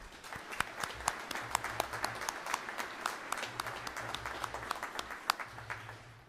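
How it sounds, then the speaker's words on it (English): Scattered audience applause at a spring college graduation ceremony, individual claps distinct and irregular, moderately close and fairly quiet, with a low hum underneath. "And I think that deserves a round of applause, too."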